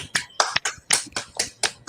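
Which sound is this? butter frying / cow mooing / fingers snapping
fingers snapping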